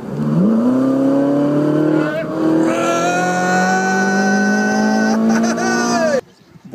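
Ferrari Italia Spider engine droning steadily while driving, its pitch rising and holding through several gear-like steps, loud and close for about six seconds before cutting off abruptly.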